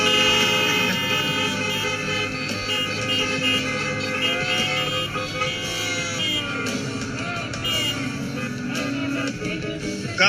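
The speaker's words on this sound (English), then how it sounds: "All of God's people, honk your horn." Several car horns honk and toot together, loud and sustained over a steady din of idling vehicles, with overlapping tones continuing throughout.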